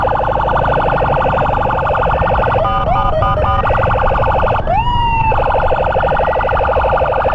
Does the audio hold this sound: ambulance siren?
yes